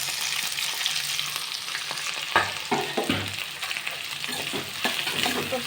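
Vegetables tossed into a hot pan with ginger for rava upma crackle and sizzle steadily, with sharper bursts and scraping stirs toward the middle and end, close and fairly loud, no talking.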